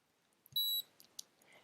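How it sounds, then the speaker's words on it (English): A NuSkin Galvanic Spa facial device gives a single clear electronic beep, bright and steady for about a quarter second, followed by faint soft handling clicks in an otherwise quiet room. "it will beep every 20 seconds just to let you know that it's happening"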